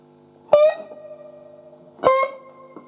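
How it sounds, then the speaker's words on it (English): Two electric guitar notes played slowly on C, each plucked and bent in a riff, with effects and light distortion. Each note rings alone with a sustained tail, and there is a short pause between them. "So when bending the C, slowly it sounds like this."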